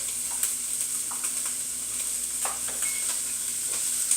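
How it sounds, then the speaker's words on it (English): Pasta cooks on the stove with a steady low hiss and faint sizzle, scattered soft clinks and bubbling pops breaking through at a moderate distance, no voices. "it sounds like my pasta is just about ready to come off the stove there"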